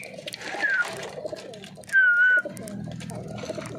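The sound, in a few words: pigeons cooing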